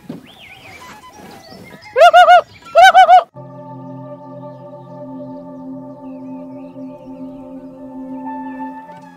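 Birds call in a lagoon mangrove forest: a few chirps, then two loud, rapid bursts of pulsing cooing calls close by, followed by a steady droning hum with faint background sound.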